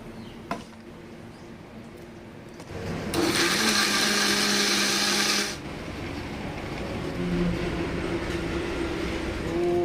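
A mixer grinder blends mango juice with milk in a short, loud whirring burst of a few seconds, then cuts out, leaving quieter background noise before and after.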